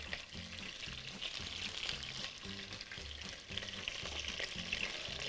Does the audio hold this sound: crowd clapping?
no